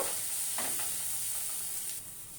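Dry cumin, chili and coriander powders being stirred in a pan for ghugni, a soft steady scrape and faint sizzle with no voices.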